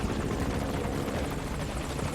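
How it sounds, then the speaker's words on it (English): Continuous rotor thump of an enemy helicopter in the game MGSV: Ground Zeroes, close and steady, heard alone with no talking. "There's an enemy chopper."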